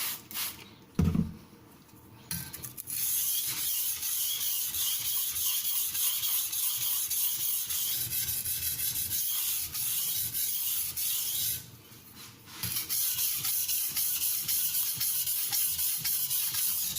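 A knife blade is stroked steadily across an aluminium oxide whetstone (FEPA 1000/JIS 3000), a close, continuous wet scraping hiss with brief pauses as the stroke changes.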